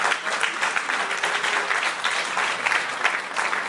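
A church congregation breaks into sustained applause, dense and steady clapping from many hands filling the room throughout, with no voices standing out above it.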